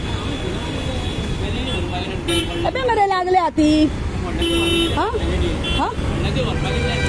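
Congested road traffic hums continuously while several car horns honk in short bursts, some near and some farther off, and a voice talks throughout.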